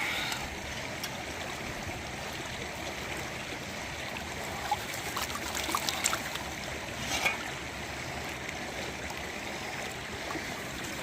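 Sluice concentrate being swirled in a gold pan in creek water, a constant gentle wash of flowing water with soft sloshes and faint gravel clicks, close and fairly quiet.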